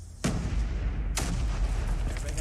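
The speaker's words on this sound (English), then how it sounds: "Lots of nades being thrown out here by SPG." Two sharp, booming grenade blasts from Call of Duty Mobile, about a second apart, each followed by a rumbling tail, loud and close in a competitive match.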